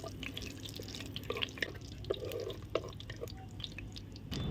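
Cumin seeds frying in hot oil in a kadai give a faint, continuous crackle with scattered small pops and sputters, heard up close and without speech.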